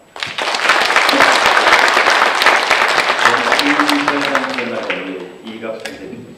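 A formal association general assembly audience breaks into loud, sustained applause that swells and then tapers off, with a voice starting to speak near the end.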